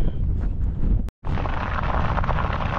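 Strong wind buffets the microphone while cycling into a headwind on a bikepacking trip in Iceland, a loud continuous roar with a brief dropout partway through.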